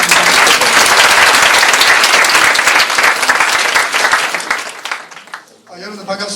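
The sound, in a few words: audience applauding to welcome the vice president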